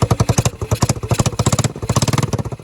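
A Yamaha 225DX Tri-Moto three-wheeler engine runs under light throttle, a close, choppy single-cylinder putter with rapid regular pulses and a mechanical clatter, loud and alone.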